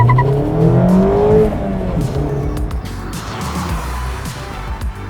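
A 2022 Mazda MX-5 Miata with 181 horsepower pulls away in first gear with the top down, its engine note climbing loud and close as the revs rise.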